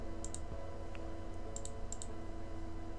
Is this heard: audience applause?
no